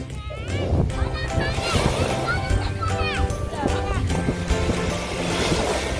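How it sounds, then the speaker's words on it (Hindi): Ocean waves wash steadily at a Dubai beach as a continuous broad surf roar with a bit of wind, running under close talking throughout. "पानी का शोर आपको पीछे से सुनाई दे रहा होगा।"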